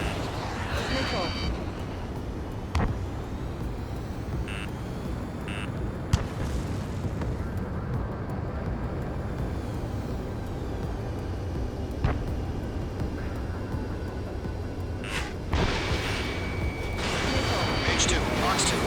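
Missiles launching and exploding in the jet combat game Ace Combat 7, with booms and rushing engine roar under a continuous wash of noise, warning tones and a radio voice talking over it.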